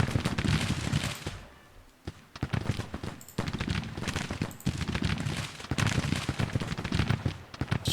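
Heavy Civil War gunfire in Grand Tactician: The Civil War, dense volleys of musket and artillery fire crackling continuously with brief lulls, loud and sustained throughout.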